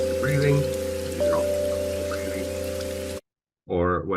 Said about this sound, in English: You can hear the raindrops.